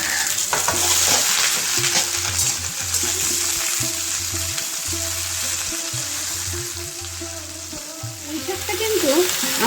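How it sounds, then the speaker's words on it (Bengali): Malabar spinach (pui shak) leaves being stir-fried in a pan, with loud crackling sizzle and repeated scraping of a spatula against the pan in an uneven rhythm, up close. "পাতাগুলো দিয়েও একটু ভালো করে কষবো তাহলে ভাজা হবে পাতাগুলো"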